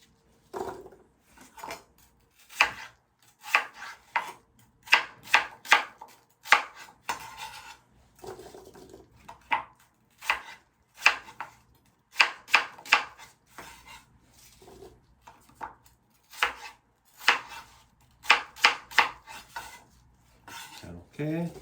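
A knife chops apple into knuckle-sized pieces on a board. It makes irregular bursts of sharp, close cuts, sometimes quick runs of several strokes, separated by quiet pauses, with no talk.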